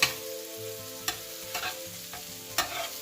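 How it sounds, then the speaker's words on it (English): Shrimp frying in a pan for Jamaican fried rice: steady sizzle broken by several sharp scrapes and clanks of a utensil stirring, with a low background hum and no voices. "We're going to get these shrimps kind of nicely cooked up."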